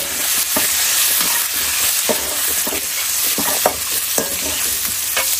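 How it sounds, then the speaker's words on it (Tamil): Grated coconut and spices sautéing in a pan make a loud, dense sizzle with repeated scraping stir strokes of spatula against the pan, close and continuous with no voices. "நல்லா இது வதக்கிக்கணும்."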